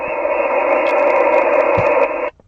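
HF radio signal received on a Flex radio during a long-distance contact, a loud steady band of noisy hiss and tone that cuts off abruptly near the end, with brief clicks.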